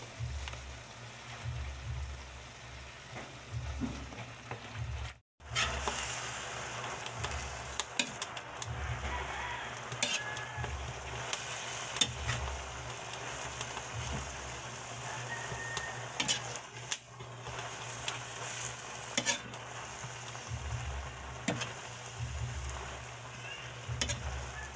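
Kangkong leaves tossed into a hot pan for adobo with oyster sauce, giving a steady close sizzle and crackle of frying, with light stirring scrapes and no talk.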